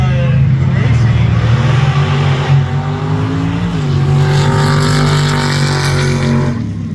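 A sand drag race car, the Chocolate Milk Wagon, roars loudly and continuously down the sand track at Dome Valley Raceway, its engine tone steady then rising, with an announcer talking over it.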